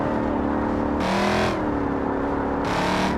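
Muscle car engine in BeamNG Drive, a steady loud roar that rises in pitch as it revs, with bursts of higher whine around the gear changes, heard alone without talk.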